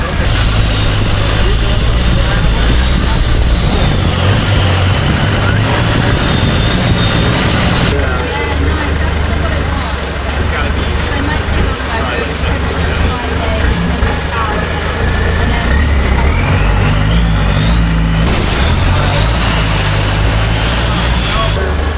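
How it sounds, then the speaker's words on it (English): A boat engine on a Bangkok waterway runs loud and close for a long stretch with a rough, uneven drone, while wind and water noise wash over it. "Can't tell if this engine has a low-P camshaft or if it's just about to die on us"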